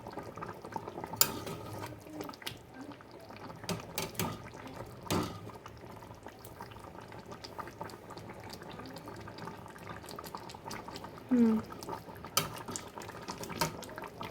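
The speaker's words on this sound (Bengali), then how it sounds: "চিকেন তো সেদ্ধ হয়েই যাবে।" Chicken curry with potatoes simmers in a pot, giving a quiet, steady bubbling with occasional soft knocks and clinks, close and alone with no talking.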